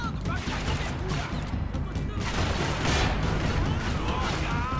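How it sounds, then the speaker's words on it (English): Shotgun blasts and surrounding gunfire in Max Payne 3, a dense, loud barrage of booming shots and crashes running throughout, with a voice faintly underneath. "Most realistic shotguns in a video game."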